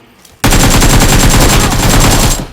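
Sustained automatic gunfire from a shotgun in the BGMI battle royale game, a loud rapid burst of evenly spaced shots running for about two seconds before cutting off, heard alone without speech.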